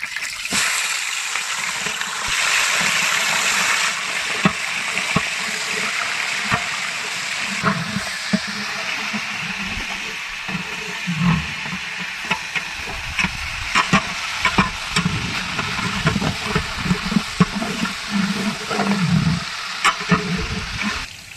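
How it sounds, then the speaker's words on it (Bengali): Meat pieces frying loudly in hot oil, a strong continuous sizzle with bursts of crackle and occasional stirring clatter, close by. "আমাদের তেল গরম হয়ে গেছে, এবার আমরা গোশগুলো ঢেলে দিব"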